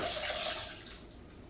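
Sauce or broth for chicken tetrazzini poured into a dish, a close, brief liquid splash and trickle that tapers off over a second and a half, no talking.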